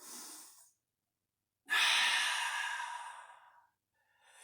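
Two deep breaths during a vinyasa yoga flow, a short exhale, a pause, then a long, full airy breath that slowly tapers off, close and clear with no talking.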